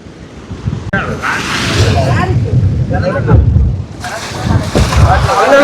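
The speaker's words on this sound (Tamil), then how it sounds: "காற்று இவ்வளோ அடிக்குது" Strong wind sweeps across the seashore at Jaffna, with a steady roar and heavy gusts buffeting the microphone. Surf rumbles underneath, and voices talk over the noise throughout.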